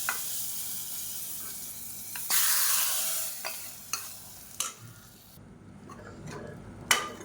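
Dried chillies, curry leaves and asafoetida sizzle in hot oil as a tempering is stirred, a steady crackling fry broken by a few louder spoon clinks and pops, close and with no talking.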